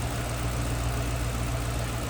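A 2009 Ford Mustang Bullitt V8 engine with cold air intake and Bullitt exhaust idles in a low, steady rumble that stays even and close throughout.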